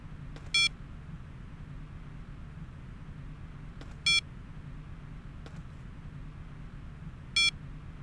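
Security system in Jurassic Park: Trespasser emits three short electronic beep bursts spaced a few seconds apart over a steady low ambient hum, with no talk.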